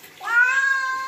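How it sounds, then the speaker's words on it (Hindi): A kitten gives one drawn-out, rising meow close by while being held for a bath, with water-splashing calm in the background. "किटन आपके नहाते हुए बहुत तंग करते हैं"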